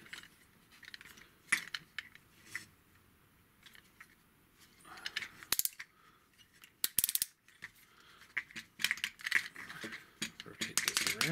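Plastic clicks, snaps and rattles from a Transformers Military Titans Onslaught toy being folded and rotated into shape, a run of sharp close handling sounds with brief busy bursts and quieter gaps.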